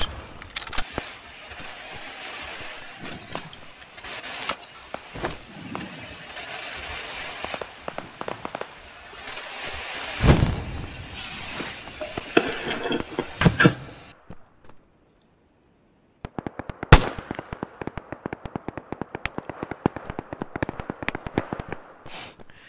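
Sniper rifle shots and gunfire in a first-person shooter video game, a dense run of sharp cracks and bursts, then a short silence before another steady volley of rapid shots.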